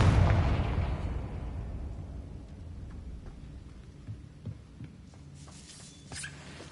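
Confringo, the explosive spell in Hogwarts Legacy, goes off as one loud blast with a deep rumble that fades over several seconds, followed by faint pops and crackles.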